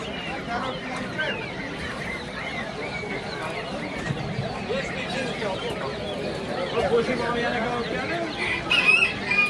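Hens and roosters at a busy outdoor poultry market cluck and crow continuously, layered with crowd noise and people talking nearby.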